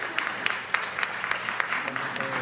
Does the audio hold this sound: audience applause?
yes